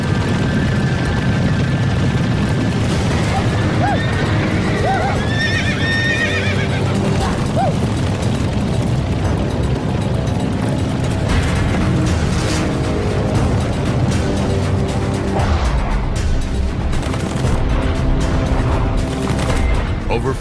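A thundering rush of many cattle hooves pounds continuously under a loud, chaotic roar, with occasional whinnies and bellows rising above the din.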